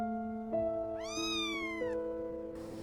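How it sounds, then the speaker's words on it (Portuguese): A small kitten trapped in rubble meows desperately, a few close, rising-and-falling cries over a steady tonal hum, with no talk. "um pequeno gatinho, sem conseguir sair de lá, miando muito, desesperado"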